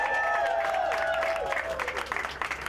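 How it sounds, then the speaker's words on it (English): Crowd applause for the mayor at the Mayor on Main 2019 outdoor event, a steady wash of clapping with cheering voices rising over it, fairly near and continuous for nearly three seconds. "Can we get a round of applause for our mayor?"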